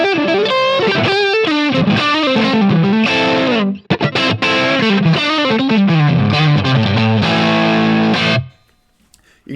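A Stratocaster electric guitar on its neck single-coil pickup, a Seymour Duncan Little 59, plays a loud, sustained melodic run of chords and notes, stopping abruptly near the end.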